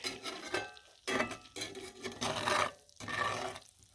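Garlic, onion, butter and sausage mixed on a Blackstone griddle, with rhythmic bursts of metal spatula scraping and sizzling that start and stop in short strokes, close up.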